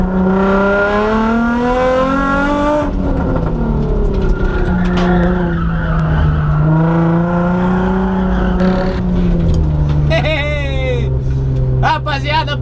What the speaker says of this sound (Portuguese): a primeira teste aí foi fazendo grip, o carro escorregou um pouquinho de frente